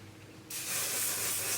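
A short burst of hairspray from an aerosol can aimed at the hair roots, a steady close hiss that starts abruptly after a brief quiet moment and holds to the end.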